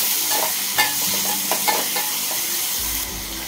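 Onion and tomato stirred and sautéed in a pan, a steady broadband sizzle with scraping stir strokes and light clinks of the utensil against the pan, close and alone, easing slightly near the end.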